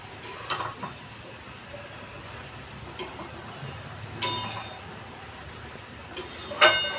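A lid goes onto a cooking pot of okra with poppy seed and spinach, making a few light metallic clinks spread over several seconds, with the last and loudest one at the end, against quiet kitchen background.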